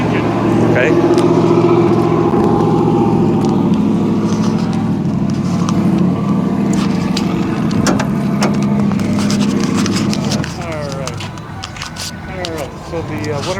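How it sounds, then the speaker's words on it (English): A 1968 Chevy Camaro's 350 Chevy V8, bored to 355 with a mild cam, idles loudly and steadily at a cruise night, its throbbing low rumble easing down near the end, with voices talking over it. "350 Chevy engine. It's been bored out to a 355 and has a little cam in it."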